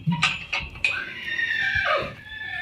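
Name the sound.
mare neighing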